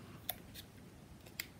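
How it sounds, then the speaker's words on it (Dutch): Scissors snip at a L.O.L. Surprise toy package, giving two quiet, crisp metallic cuts about a second apart over a low background hiss. "Ik heb wel een schaar bij de hand."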